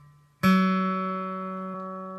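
A single guitar string is plucked during tuning, sounding a slightly flat G that rings clear and sustained, slowly decaying in a quiet room.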